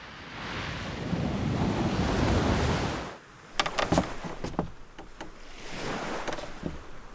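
Surf rolls onto a long sandy beach on the Île de Ré, a broad close wash of breaking waves with wind buffeting the microphone, easing midway before building again.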